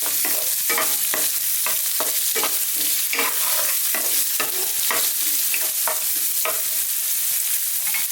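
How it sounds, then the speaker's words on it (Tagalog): Onions frying and being stirred in fat rendered from pork sausage, a steady loud sizzle with repeated scraping stirs, no voices. "Ngayon po lumabas na yung mantika na nanggaling sa ating pork sausage. I-add na po natin yung ating sibuyas."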